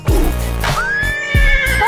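A horse neighs in one loud, clear whinny that rises and then trails off, with no talking, used as an animal sound for a children's lesson on animal names.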